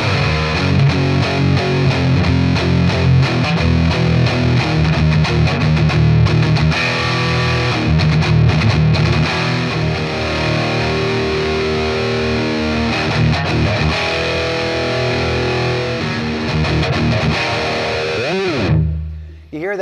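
Heavily distorted electric guitar, an Ibanez RG421PB Caribbean Shoreline Flat played on the neck pickup through a Katana amp on the high-gain brown sound, riffs loudly and continuously before cutting off and ringing out at the end.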